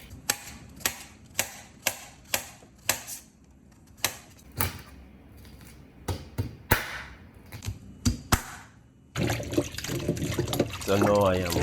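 Peeled sweet potato, Irish potato, cocoa, sweet yam and corn are handled in water, with a series of sharp knocks and clunks at a steady pace before a burst of running, splashing water and a speaking voice near the end.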